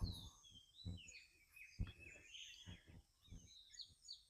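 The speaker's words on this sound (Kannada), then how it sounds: "ಆ ಹಕ್ಕಿಗಳ ಸೌಂಡು." Birds chirp and sing in a misty village field at dawn, with thin, high, overlapping calls carrying on throughout at a modest distance, over soft low thumps nearby.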